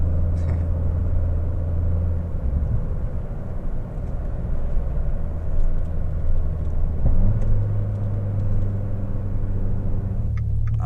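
A steady, loud low rumble of road traffic continues throughout, with a car driving close by on an Oklahoma road and no clear single pass.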